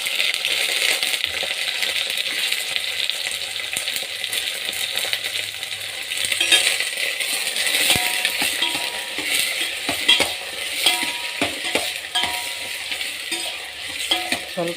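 Eggplant pieces fry in a pan over already-fried onions for sambar, giving a continuous bright sizzle with intermittent scrapes and clinks of a stirring spoon against the pan.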